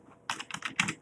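Several quick keystrokes on a computer keyboard, including presses of the spacebar, sound as close, crisp clicks in a short uneven burst with no talking.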